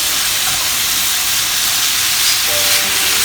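Meat browning in bacon fat in a pot for steak and ale chowder, a loud, continuous sizzling hiss held close throughout with no talk.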